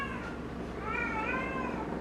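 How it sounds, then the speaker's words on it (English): A cat in heat meows in a long, drawn-out wavering call that rises and bends, loud and close, sounding alone over a faint low hum. "My cat's in heat, sorry."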